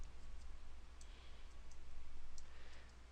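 Several sharp mouse clicks while stepping through a SQL Server 2008 R2 installer on a computer, spaced irregularly over a low steady background hum.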